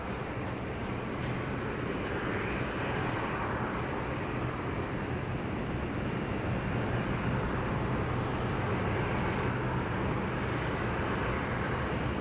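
A Jetstar airliner arriving from Hobart on approach to Sydney Airport produces a steady, broad engine roar that holds at a constant level throughout, with no talk over it.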